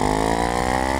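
A Kawasaki Ninja 500 with its 500cc parallel twin runs at a steady idle, a loud, close, even engine drone with no one speaking.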